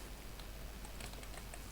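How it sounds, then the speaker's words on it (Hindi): Someone types a word on a computer keyboard into a Windows taskbar search box, producing soft, quiet clicks in a loose, uneven run against low background hiss. "सर्च बॉक्स में आपको कीबोर्ड से लिखना होगा नोटपैड"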